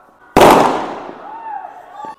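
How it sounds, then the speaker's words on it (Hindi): A single loud firecracker burst from children setting off crackers at a night-time Diwali-style celebration in Jammu, with the bang decaying into a rattling tail and a faint whistling tone afterward. "बच्चे पटाखे जला रहे हैं"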